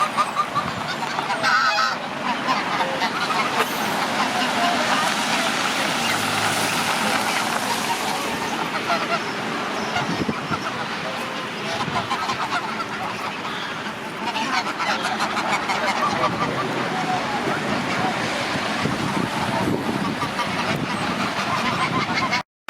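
A flock of grey pink-footed geese honks continuously and loudly close by during an Icelandic winter, with overlapping calls and some roadside background noise throughout.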